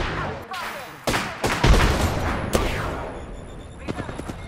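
Bursts of gunfire and explosive booms from an Apex Legends battle come in irregular clusters of sharp, loud shots over a constant wash of game noise, with quieter scattered shots near the end.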